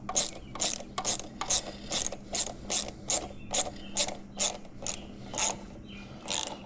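A 7/16 ratchet wrench tightens the clamp of a Corsa Performance air intake onto the throttle body of a supercharged Hellcat. About a dozen crisp, rhythmic clicking strokes are heard close up, with no talking.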